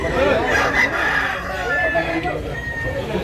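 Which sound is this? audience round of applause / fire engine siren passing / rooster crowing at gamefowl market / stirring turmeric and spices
rooster crowing at gamefowl market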